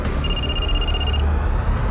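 A telephone in a Mumbai crime-drama scene gives a single electronic ring burst lasting about a second, then falls quiet over a steady background hiss.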